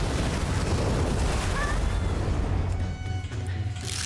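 Firecrackers going off inside a mine in World of Warcraft, a dense run of loud booms and crackling blasts that ease into a lower rumble toward the end.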